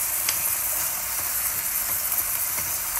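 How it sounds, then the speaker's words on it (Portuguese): Beef sizzles in a pot with garlic and salt, a loud, continuous crackling fry with no talk over it. "a carne já começa a fritar"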